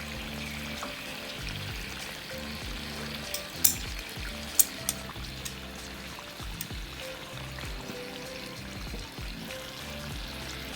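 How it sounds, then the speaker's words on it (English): Pork chop frying gently in butter over low heat, a steady soft sizzle and crackle running throughout with a few brief sharper pops, no voices. "Let this cook in the butter."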